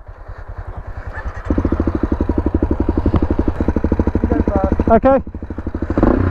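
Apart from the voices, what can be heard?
Honda CRF250L motorcycle engine running in gear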